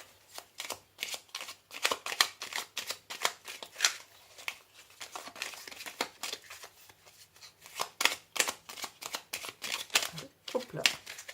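Oracle cards are shuffled and drawn by hand in a rapid run of papery riffling and flicking, dense and close, with brief pauses, continuing steadily throughout.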